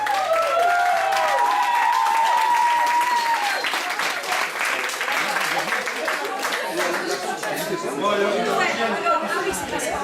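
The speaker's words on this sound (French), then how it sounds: "Allez, tous les deux sous les applaudissements." Wedding guests at an evening reception applaud as the bride and groom are called in, a dense, continuous round of clapping mixed with crowd chatter and voices talking nearby.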